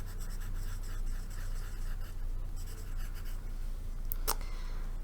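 A pencil writes on paper, close and quiet, with continuous scratchy strokes and a couple of sharper taps near the end, with no talking.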